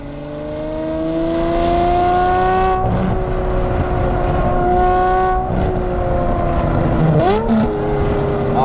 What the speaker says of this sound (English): it definitely has more of a Ferrari sound here. It's a Cosworth V12.